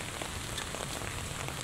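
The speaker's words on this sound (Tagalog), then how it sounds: "O diba, kahit umuulan" Dense, even rain falls steadily outdoors, a close hiss of drops on surfaces with no pauses and no voices.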